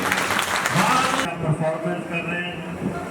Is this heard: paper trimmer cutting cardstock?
no